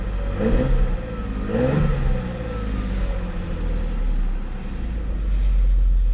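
A vintage Mercedes-Benz 300SL engine, run again after sitting for nine years, revs in repeated rising surges over a steady low rumble, loud and close with no talking.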